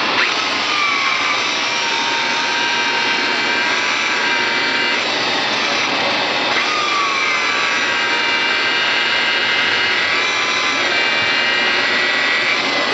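A car polisher runs at about 1500 RPM with a wet microfiber pad on fresh paint during wet sanding and polishing work. It gives a loud, steady whirring drone with a faint rubbing texture and no talking.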